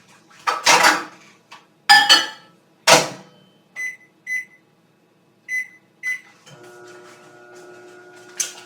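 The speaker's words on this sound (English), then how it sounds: "put it in a microwave safe bowl, and I'm going to melt this in the microwave for 10 to 20 seconds" Bowls and dishes clatter in a few sharp knocks before a microwave melting butter in a bowl sounds a run of short beeps and then settles into a steady low hum.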